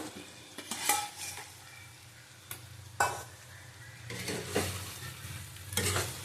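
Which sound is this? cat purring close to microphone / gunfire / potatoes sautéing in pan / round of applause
potatoes sautéing in pan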